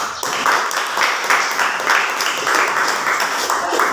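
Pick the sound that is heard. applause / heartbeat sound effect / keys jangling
applause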